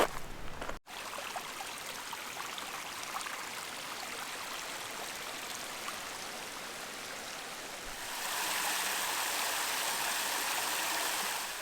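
A creek flowing through Shawnee National Forest in southern Illinois, a steady broadband rush of running water close by, growing slightly louder and brighter toward the end, with no voices.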